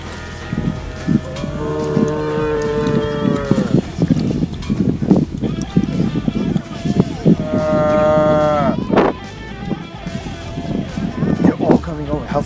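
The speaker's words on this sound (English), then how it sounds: "And we found that there are cattle crossing everywhere, so Scott decided to be the cow whisperer." Cattle crossing a road on a film shoot moo loudly and close by, with long drawn-out calls, over steady outdoor noise and people chatting.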